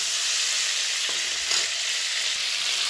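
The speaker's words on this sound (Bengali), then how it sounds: "ফুলকপিগুলো ভালো করে মোটামুটি ভাজা হয়ে গেছে, আর একটু লাল করে ভাজবো।" Cauliflower pieces fry in hot oil for khichdi, a steady loud sizzle with faint stirring scrapes throughout.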